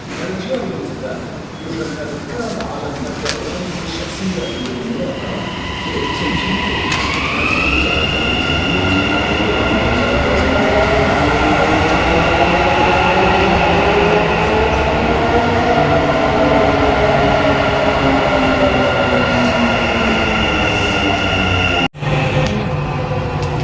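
A train rumbles steadily nearby with a rising electric whine as it pulls away, wheels rolling along the track.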